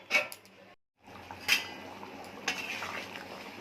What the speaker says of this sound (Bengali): এবারে ঢাকা দিচ্ছি।